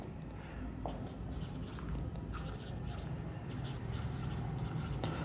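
A pen scratches steadily across paper as handwritten notes on linear polynomials are written for a maths lesson, with continuous strokes and small taps under a constant background hiss.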